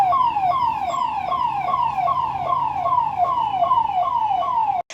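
An ambulance siren at a district hospital COVID mock drill in Dewas wails loudly and close in rapid repeating downward sweeps, about a dozen cycles, before cutting off abruptly.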